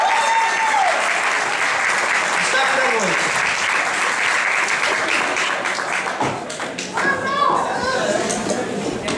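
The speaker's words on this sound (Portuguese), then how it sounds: "Aplausos" An audience at a Talento Brasil talent competition applauds the duo Flávio and Endoli, a dense, steady wash of clapping that fills the whole stretch, with whistles and cheers rising over it near the end.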